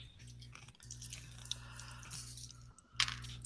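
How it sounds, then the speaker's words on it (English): Ice being munched and crunched close to the mic during a tabletop role-playing session, a steady soft chewing texture with a sharper crunch near the end over a low hum. "you guys can't hear me munching on the ice"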